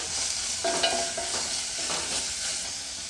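Onion fries with ground chili paste in a pan for okra palya, a steady soft sizzle with a few stirring scrapes, close and alone without talk.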